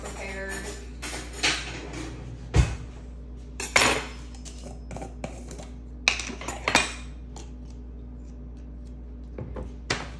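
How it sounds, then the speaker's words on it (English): Metal cutlery clinks and rattles as a knife is taken out for spreading peanut butter in a home kitchen, a few sharp clatters and knocks spread over the stretch with brief dish and drawer sounds, moderately close. "Let's get a knife for our peanut butter."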